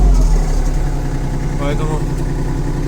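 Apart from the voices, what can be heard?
Kubota GL260 mini tractor engine idling, warming up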